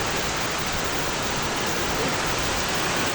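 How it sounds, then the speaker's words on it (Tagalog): Heavy rain in Bicol, Philippines, pours in a continuous, loud, broadband roar with no pauses, like a flooding downpour hammering surfaces close by. "lakas ng ulan. Parang may bagyo, pero wala namang bagyo"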